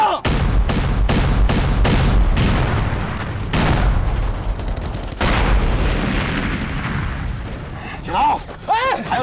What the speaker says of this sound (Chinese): 继续开炮，不能给共匪任何喘息的机会